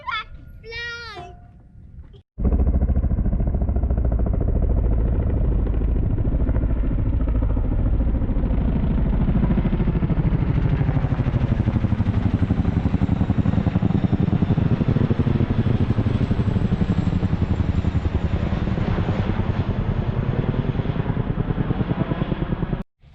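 Motorbike engine riding down a trail, loud and close, running continuously with a rising, throbbing drone and rattling after a short spell of voices at the start.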